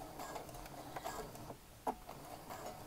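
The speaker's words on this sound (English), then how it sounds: "I'm going to back stitch." Sewing machine backstitching fabric for a McCall's 8241 garment, a quiet, short run of light mechanical ticking and clattering stitches with one sharper knock near the end.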